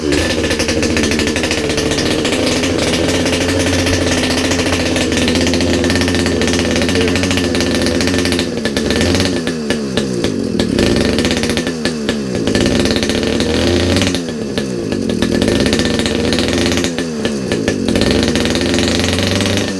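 A gas-powered motorized bicycle's small two-stroke engine runs loud and close, its buzzing idle swelling into several sharp throttle revs that rise and fall in a repeating pattern.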